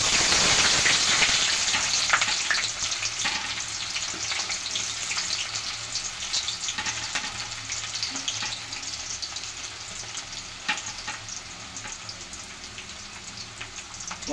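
Onions frying in oil on medium flame for hotel-style tomato thokku, a steady dense sizzle that starts loud and eases slightly, continuous with faint crackles, no voices.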